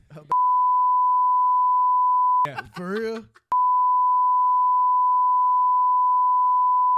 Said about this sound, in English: Man, this shit gonna be bleeped.